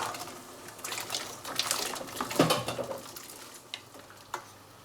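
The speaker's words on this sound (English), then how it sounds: "let's put the vegetables in hot water." Vegetables dropped into hot water on a stove for a leafy vegetable dessert in Aragon, with stirring, splashing and sizzle-like bubbling plus a few clinks of pots at moderate level, no talking.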